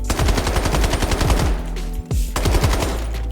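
Rapid automatic gunfire from a gun in the video game Delta Force, loud close bursts of fast repeated shots with a short pause midway before firing resumes.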